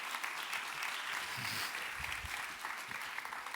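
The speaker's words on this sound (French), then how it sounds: "Give them a big round of applause." Audience at a science show at CERN applauding volunteers on stage, a faint, distant, steady patter of clapping with some low thumps.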